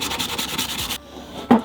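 A grungy Mazda tail light housing being rubbed clean, a brisk scratchy scrubbing in quick repeated strokes that stops abruptly, followed by a short sharp knock.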